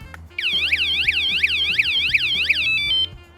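A loud electronic bike vibration alarm siren wails in rapid repeating up-and-down sweeps for a few seconds, then switches to a steady tone and cuts off.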